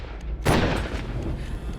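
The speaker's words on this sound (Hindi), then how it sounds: "2 गोलियां चली।" A gunshot from an audio-drama effect rings out once, sharp and loud, then trails off into a short reverberant decay.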